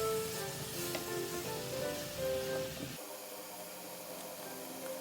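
Konjac sizzles and hisses steadily as it is stir-fried in a hot pan, a continuous frying sound with a faint hum underneath and no talking.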